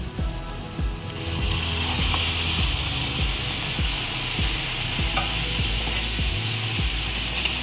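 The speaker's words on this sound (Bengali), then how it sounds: "মশলার সঙ্গে খুব ভালোভাবে মাটনটা মিশিয়ে নিচ্ছি" Mutton is stirred and fried with spices in a wok, a loud continuous sizzle that swells after the first second, with a rhythmic series of spatula scrapes against the metal.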